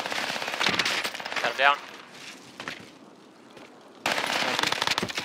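Bursts of automatic gunfire crackle in a Warzone Caldera match, coming in rapid strings with a pause in between. Players talk over the shooting.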